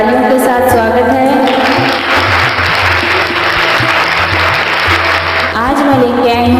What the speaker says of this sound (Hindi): आप सभी का हमारे चैनल पर तालियों के साथ स्वागत है